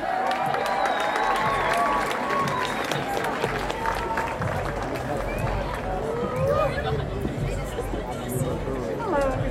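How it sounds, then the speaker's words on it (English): Outdoor festival crowd applauding at a main stage event in Newburgh, a dense, continuous patter of clapping mixed with cheering and chatter, with people talking and calling out through it. "Give a warm round of applause to Jill Rowe,"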